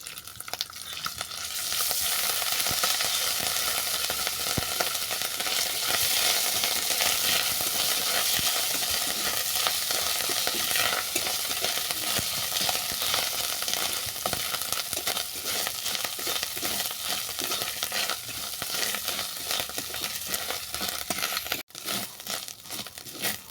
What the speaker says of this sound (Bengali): ফোড়নটাকে নেড়ে ছেড়ে দিয়ে দিলাম আদা বাটা